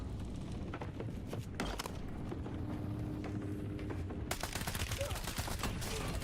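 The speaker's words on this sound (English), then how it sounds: "how do I hip fire like that and none of those bullets actually hit him?" In a battle royale shooter, hip-fire gunshots sound as a string of quick, fairly faint shots scattered over a busy rumbling background, with a louder cluster near the end.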